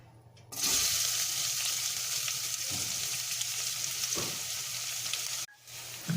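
Onions sizzle and crackle loudly in a hot pan for Ugandan katogo, with occasional stirring scrapes, the frying cutting off abruptly near the end.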